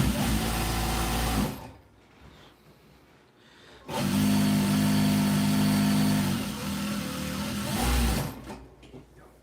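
A sewing machine runs, with the bobbin not yet loaded. It whirs in two close, loud bursts: a short run, a quiet pause, then a longer steady run that stops abruptly.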